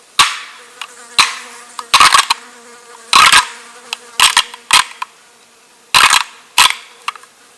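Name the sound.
Knight & Hale Pack Rack deer rattling sequence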